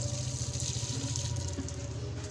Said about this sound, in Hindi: तो यार यहाँ कैक्टस को भी पानी दे देते हैं ताकि ये इसके भी